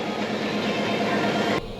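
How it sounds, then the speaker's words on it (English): A miniature Shinkansen bullet train runs along its track at a conveyor sushi restaurant, giving a continuous close rolling whir and rumble that cuts off abruptly near the end. "when you order something off the extra menu, it gets brought to you on a special Shinkansen bullet train"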